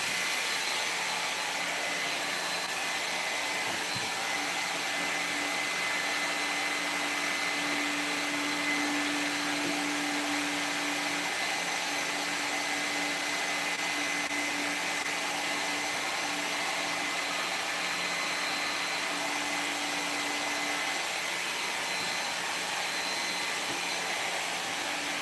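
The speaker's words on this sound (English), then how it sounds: "I'm going to super dry these ears by adding a hair dryer to the fan." A hair dryer blows into a fan to speed-dry a mask finish, making a loud, continuous whooshing roar with a faint steady hum that never lets up.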